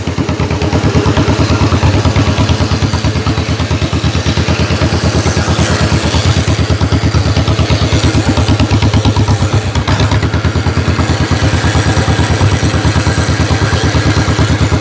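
1949 John Deere tractor engine chugging loudly and steadily in a rapid, even rhythmic clatter as it pulls off in first gear, close up and continuous throughout with no talking.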